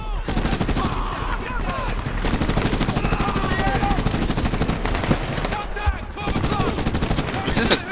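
Steady battlefield gunfire in the shooter Medal of Honor (2010), near-continuous automatic fire with rapid repeated shots throughout, voices speaking intermittently over the shooting.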